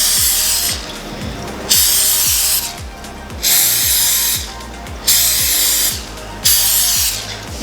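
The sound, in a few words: cooking oil sprayed into small glass ramekins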